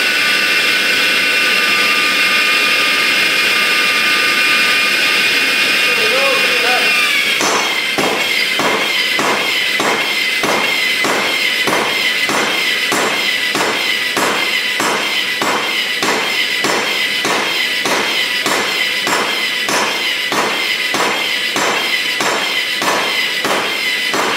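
A hot metal rod is hammered flat on an anvil during forging, a steady run of loud, evenly spaced ringing blows after a brief hissing roar at the start.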